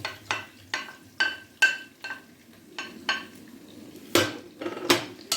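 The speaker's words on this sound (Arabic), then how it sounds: "غادي نبقى نحركو في هذا الشيء حتى يتبان لينا" Chopped peppers and two garlic cloves stirred in a pan over high heat, heard as a utensil scraping and clinking against the pan in quick, uneven strokes, close and fairly loud.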